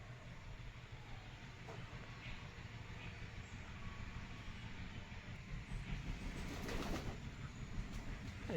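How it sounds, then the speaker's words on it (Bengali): Pigeons coo softly at a street feeding spot, a low steady murmur of several birds at a distance under faint background noise, with no one speaking. "এই চলে আসছে পায়রাগুলো।"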